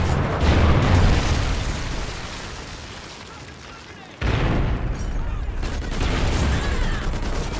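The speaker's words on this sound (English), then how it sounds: "Friendly Trinity rocket inbound." A Trinity rocket killstreak explodes in Call of Duty Ghosts, a sudden heavy boom cutting in after a quieter stretch and rolling on as a loud, sustained roar of blasts and gunfire.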